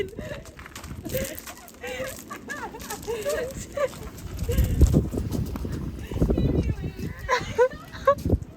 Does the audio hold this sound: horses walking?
yes